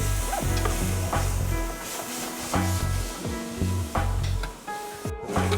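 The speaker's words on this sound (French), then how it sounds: "Donc je vais les rajouter directement aux champignons en train de sauter." Mushrooms sauté in a hot pan as spices are added, giving a steady close sizzle with occasional stirring scrapes under background music.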